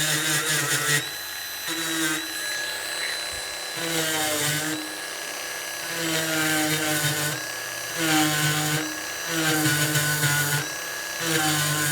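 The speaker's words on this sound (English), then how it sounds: "I'm just going to Dremel out this hole a bit bigger." A Dremel rotary tool grinds a hole wider in a part of a BMW K75 cafe racer build, a high, steady whine close by that drops in pitch under load in repeated bursts, with brief lulls between passes.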